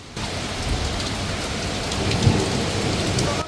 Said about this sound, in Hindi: लगातार बारिश हो रही है दोस्तों